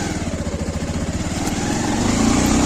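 A Bajaj Avenger Street motorcycle engine runs steadily as the bike pulls away from a home lane, with a loud, close, rhythmic single-cylinder thump that climbs slightly in pitch.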